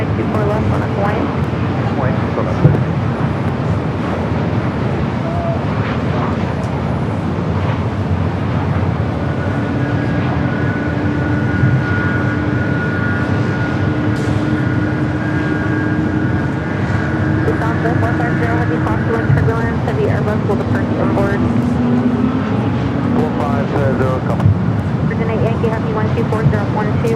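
A heavy Virgin airliner on runway 24 left at LAX makes a constant loud roar of engine and airport noise throughout, with a rising tonal whine in the middle, under ongoing voices.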